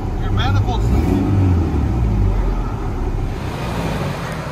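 A 2000 Toyota Tacoma four-cylinder with a Borla ATAK exhaust and a leaking manifold idles with a steady, loud, close low rumble, with people talking over it.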